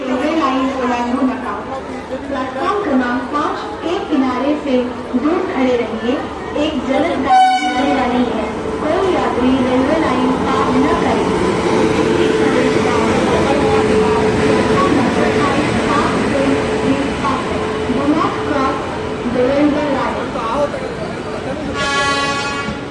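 A passenger train, the Tutari Express, rumbles steadily at a crowded station amid a noisy crowd of voices, with a brief horn-like tone partway through and a short screech near the end.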